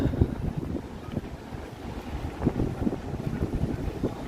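Gusty wind blowing across a Toronto harbourfront on a stormy day, a steady low rush buffeting the microphone with louder gusts, with the low sound of water and boats underneath.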